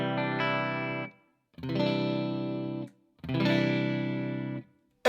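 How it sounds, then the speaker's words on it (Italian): Cordova electric guitar with split pickups played clean, three sustained strummed chords each ringing about a second and a half, separated by short silences, steady and fairly loud with no voices. "E questo è il suono dei pick-up splittati."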